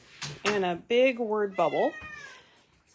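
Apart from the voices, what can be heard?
pet cat meowing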